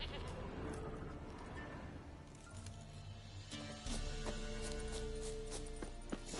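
A goat bleats in The Witcher 3 in a bog area, a few faint calls over low ambient game sound and music, with quiet talk.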